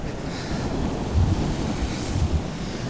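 Ocean waves wash ashore at a beach resort in the Dominican Republic, a steady low rumbling surf with soft swells, mixed with wind buffeting the microphone, no voices.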